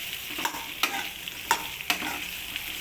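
Onions, tomato, ginger, garlic, coriander, mint and curry leaves sautéing in a pan, with a steady sizzle cut by four or five sharp scraping stirs, close and clear, no voices.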